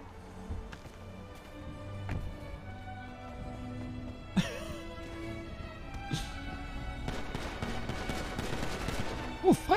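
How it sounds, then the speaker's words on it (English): Fireworks go off at a distance outdoors: scattered pops and cracks grow into a denser crackling volley near the end, with faint voices in the background. "Fireworks."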